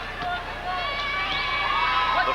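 A loud, sustained roar from the crowd at a 1984 Illinois high school boys basketball Class AA championship game, Simeon versus Evanston, rising during a free throw, with voices and whistle-like cries blended into the noise.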